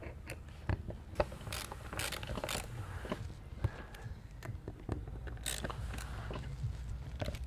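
Bolts on a 2018 Harley-Davidson Softail transmission cover are tightened with a ratchet, giving irregular clicking bursts and metallic taps close up, with no talk.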